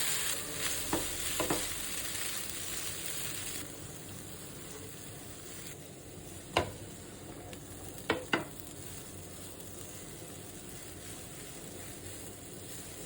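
Noodles and sausages sizzle steadily in a frying pan while being stirred, with a few sharp clinks of a utensil against the pan over the hiss, which is louder for the first few seconds.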